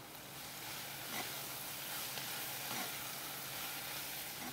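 Onions sizzle steadily in a hot pan with cumin, chili and black lime while a spoon scrapes through them now and then, close and continuous, for jareesh and harees kashna.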